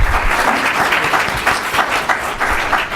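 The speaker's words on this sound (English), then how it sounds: "I'd like us all to applaud you for that." Audience members at a Washington Township council meeting applaud, a steady, fairly loud wash of clapping across the whole stretch.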